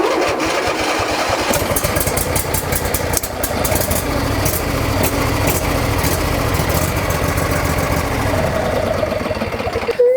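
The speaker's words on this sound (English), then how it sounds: "turn on the key start switch, pull the choke, and I can start the machine just like that" A lawn tractor engine, started by key switch with the choke pulled, runs loud and steady at close range, with a rough, continuous idle throughout.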